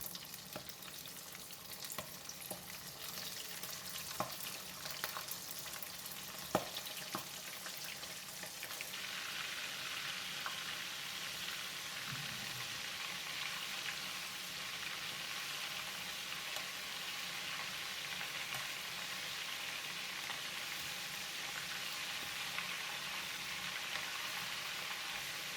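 Prawns frying in oil in a pan, with a steady broadband sizzle running alone throughout, plus a few brief clicks and one sharp tap near the start.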